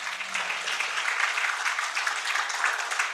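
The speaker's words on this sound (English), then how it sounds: "Let's appreciate them with a round of applause." Steady audience applause at a gender and civil registration symposium, a dense wash of many hands clapping evenly for the full few seconds with no voices over it.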